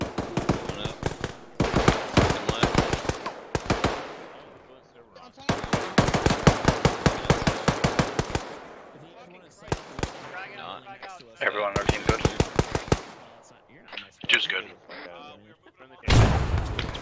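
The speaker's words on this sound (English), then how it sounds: "Shots outside the village west." Gunfire in the ArmA 3 military video game during a joint Delta and Ranger operation, with repeated bursts of rapid automatic shots separated by short pauses, loud and close, mixed with other battle noise.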